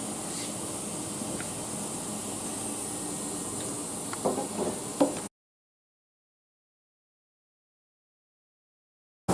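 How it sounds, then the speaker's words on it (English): An electrostatic paint spray gun hisses steadily, running continuously for several seconds, broadband and even, with a few faint clicks near the end before it cuts to silence. "with this particular part, we're spraying a very simple shape"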